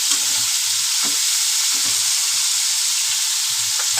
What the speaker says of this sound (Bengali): উচ্ছেটাকে আমি লাল লাল করে ভেজে নেব